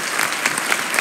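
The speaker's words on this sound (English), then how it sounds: "Everyone give them a round of applause because they're awesome." A school concert audience claps for young pianists at a 6th-7th grade instrumental concert, a brief, full burst of many hands applauding with no voices heard.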